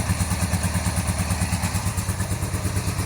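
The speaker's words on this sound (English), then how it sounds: "the bike is running on 2 cylinders right now" A cafe racer motorcycle engine runs at idle on only two cylinders, loud and close. Its steady, lumpy rhythmic thrum carries an uneven mechanical clatter.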